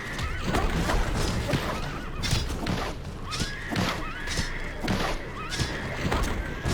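A mythological horse-like creature from the video game RIFT neighs and whinnies repeatedly over a busy battle, with thuds and crashing hits mixed in, fairly loud.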